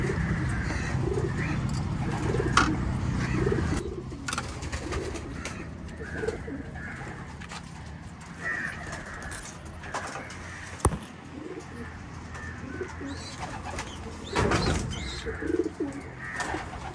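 Racing pigeons coo steadily inside a loft, with soft repeated calls at close range, occasional brief wing flutters and a few sharp knocks; no one speaks.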